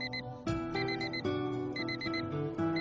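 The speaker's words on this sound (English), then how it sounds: "Turn off the alarm." An electronic alarm clock rings with a repeating melodic chime of bright, steady tones, sounding close and clear with no voices.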